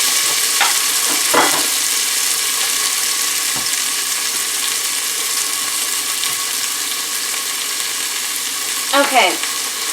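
Pearl onions fry in a pot for a seafood stew, giving a continuous close, loud sizzle with a few clinks of stirring near the start and again near the end.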